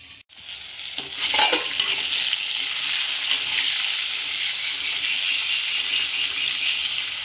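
Eggplant stir-fried in plenty of oil for Tamil ennai kathirikkai kuzhambu gives a steady, loud sizzle with a brief clatter of stirring near the start, and no voices.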